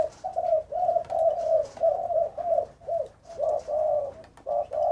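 Spotted doves give a run of rhythmic, mellow coos, loud and close, in repeated phrases with short pauses between them.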